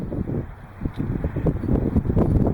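Gusty wind buffets an outdoor microphone beside a table holding a 1911 .45 and a Taurus G3C 9mm compact pistol, a continuous low rumble that swells and surges in uneven bursts.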